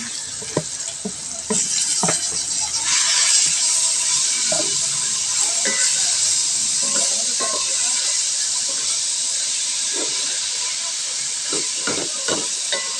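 Ripe guava, seeded with its skin pounded, sautéed in a pan as the base for milkfish sinigang: a steady hiss of steam and frying with occasional stirring clatter, close and continuous throughout.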